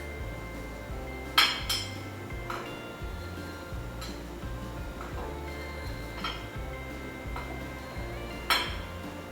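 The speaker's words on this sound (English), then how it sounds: "So I'm just gonna get a knife and slide through my Bingfen to make a few cuts" A knife slides through brown-sugar Bingfen ice jelly in a bowl, with a handful of sharp, scattered clinks and taps of metal against the dish over a quiet background hum.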